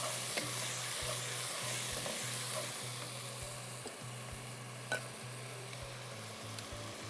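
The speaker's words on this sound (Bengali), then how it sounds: "এখন সব ইনগ্রেডিয়েন্টস আবার মিক্স করছে।" Beef rezala ingredients are stirred in a pan over steady frying sizzle, with soft scraping strokes and an occasional light clink under a constant hiss and low hum.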